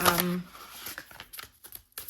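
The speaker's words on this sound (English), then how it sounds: "I'm gonna keep shuffling. That's too many cards." Oracle cards being shuffled close up, with a brief riffling flutter and papery slides and taps, mixed with a voice speaking at the start.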